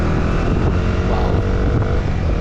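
A Bajaj Dominar 400 single-cylinder 400cc motorcycle on a track test ride, its engine droning steadily under heavy wind rush at close range, with no talking.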